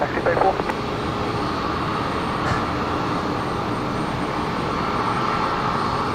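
A Qantas jet airliner takes off from runway 01 right at Brisbane Airport, its engines making a steady, broad roar heard from a distance, with people talking over it.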